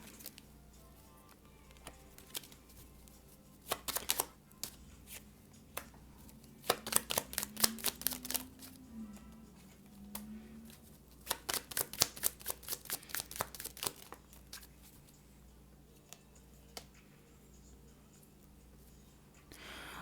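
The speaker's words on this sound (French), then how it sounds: "J'ai trop de cartes qui tombent." Tarot cards are shuffled by hand in several quick riffling bursts, close and crisp, with pauses between and a soft patter as loose cards slip and fall.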